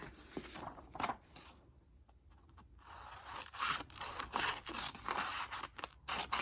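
Paper being cut while making an origami bookmark, with a run of dry scraping snips near the start, a brief lull, then steady crisp cutting strokes close up, no voice.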